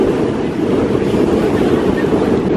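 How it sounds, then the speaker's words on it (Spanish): Strong wind buffets the microphone on a white-sand beach with turquoise water in Morocco, a loud, steady rumbling roar with surf mixed in, continuous and close throughout. "no se puede estar del viento que hay"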